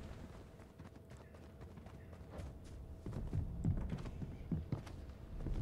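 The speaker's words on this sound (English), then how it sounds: "Oh, well, there's footsteps." Footsteps in the Fortnite video game, a soft run of close, irregular thumping steps under low background hum, growing louder and heavier toward the end.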